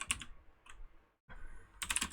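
Computer keyboard keys clack in quick clusters as commands are typed, with short bursts of close, crisp taps separated by a brief silent pause.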